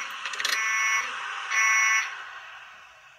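An alarm in the video game Five Nights at Wario's sounds twice, each a loud, shrill buzzing electronic tone lasting about half a second, with a brief gap between, then fading away.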